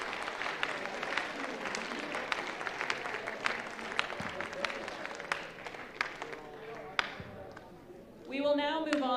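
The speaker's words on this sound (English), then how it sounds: "You can applaud your winners for their sophomore class." An audience in a school chapel applauds sophomore class award winners, with sharp, scattered hand claps that thin out toward the end before a voice begins speaking.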